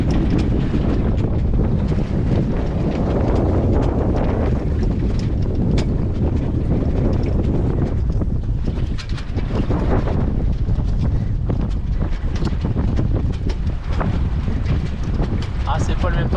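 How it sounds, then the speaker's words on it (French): Strong wind roars across the microphone aboard a sailboat off the Brittany coast near Perros-Guirec, a loud constant buffeting rush with water sloshing against the hull and occasional creaks. "il y a un peu plus de vent"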